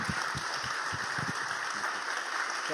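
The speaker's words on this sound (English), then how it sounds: "Let's give a round of applause to Marc." Audience applause for a speaker at a talk on animal compassion: a steady, dense patter of many hands clapping, moderately loud and continuous throughout.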